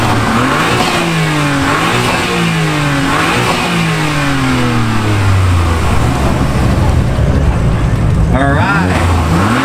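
A BMW fitted with a Catalyst downpipe, stock midpipe and Remus exhaust revs loudly and close at a car meet in Melbourne, its engine rising and falling through several sweeping pulls amid crowd noise.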